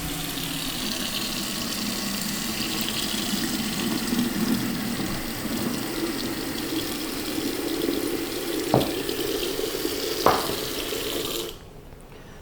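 Water pours steadily from a kitchen faucet into a sink while noodles drain, a close, continuous rushing hiss broken by two brief clanks near the end before the flow cuts off.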